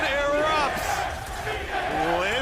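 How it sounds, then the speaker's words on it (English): Big New York arena crowd cheering at a League of Legends Worlds 2022 esports match, a loud roar of many voices with shouts rising and falling, under an excited commentator's voice. "Listen to New York cheer."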